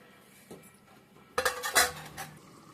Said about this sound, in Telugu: మూత పెట్టుకుందాం.